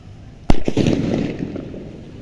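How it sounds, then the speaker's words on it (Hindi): A 555 sutli bomb firecracker blows up with one sharp, very loud bang, and a rumbling echo slowly fades after it, with nobody talking. "अब जलाते हैं इस 555 बम को"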